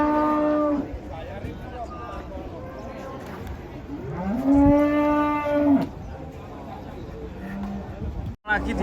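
Cattle being unloaded from a truck give two long, loud moos, the second rising and held, while people chatter nearby and a short thud lands near the end.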